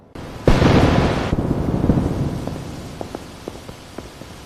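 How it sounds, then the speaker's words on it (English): Steady rain pours down with a sudden loud burst early on, then settles into a continuous hiss with scattered heavy drops. "This rain will stop soon."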